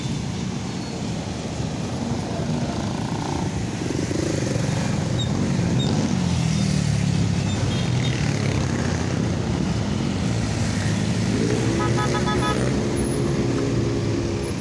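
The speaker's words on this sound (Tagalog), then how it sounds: "May traffic po tayo." Dense road traffic near a street corner by SM South Mall in Las Piñas, with steady engine rumble and passing vehicles, loud and continuous throughout; no horns stand out clearly.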